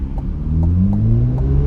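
A supercharged Corvette C8 Z06 engine revs during a drive, heard from inside the car as a steady, loud, close rumble that climbs smoothly in pitch as the revs build, with no talking.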